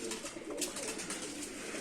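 Mardin tumbler pigeons coo in a loft holding about fifty birds, a steady overlapping murmur of soft throaty calls close by with no pauses.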